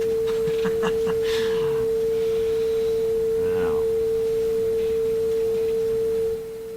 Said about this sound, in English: so you're not getting too much of an earful of the tone